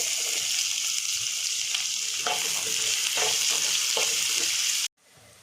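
Onions, green chillies and ginger-garlic paste sizzle steadily in hot oil, with soft stirring clatter throughout, before the sound cuts off abruptly near the end.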